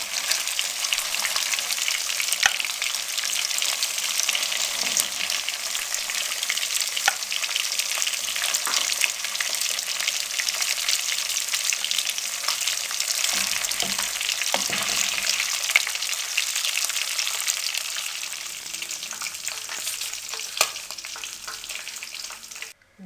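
Fish frying in hot oil in a kadhai, a dense, steady, loud sizzle that crackles without pause and with no voices.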